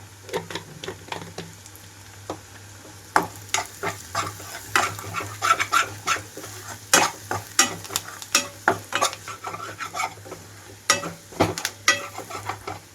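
Ginger, garlic and turmeric frying in oil for a mushroom fry, with loud repeated spatula scrapes and clanks against the pan over a constant soft sizzle, no talk.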